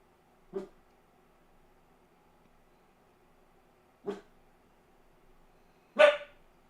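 A single dog barks three times, well spaced and somewhat distant in a quiet room, the last bark louder and sharper than the first two.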